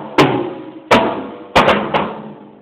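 Three tom-tom drums struck one after another, high, mid and floor tom, each a loud booming hit with a decaying ring, the last two close together, in a drum lesson setting.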